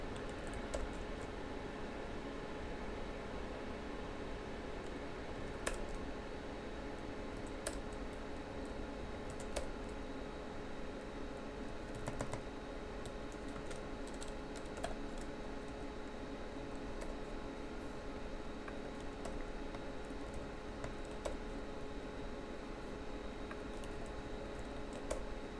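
Quiet, sparse keystrokes on a computer keyboard tick away in short irregular bursts over a low steady background hum, with no one speaking.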